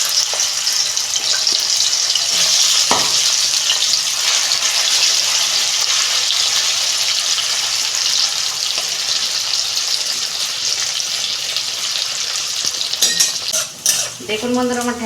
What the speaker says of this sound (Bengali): এই যে ঢ্যাঁড়সগুলো আমি দুবার ধরে ভেজে নেব।